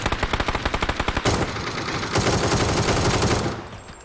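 Rapid automatic gunfire in PUBG, a fast burst of close sharp shots followed by heavier overlapping fire and blasts that fade out near the end.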